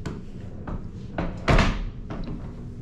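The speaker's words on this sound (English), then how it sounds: "So I can open the door." A hotel room door at the Sahara in Las Vegas is handled, with a few soft knocks and rattles and one louder thud as it opens, close by and fairly quiet, with no talking.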